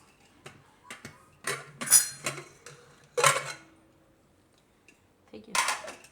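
A metal pressure cooker holding carrot and potato curry is opened after two or three whistles, giving several sharp metallic clanks and clinks close by, separated by quiet gaps.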